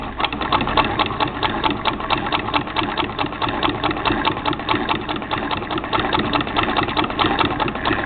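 A 1916 Singer 66-1 sewing machine, taken out of its treadle and run by hand crank, stitches in a fast, even mechanical chatter with a steady rhythmic whir, loud and close, with no voices.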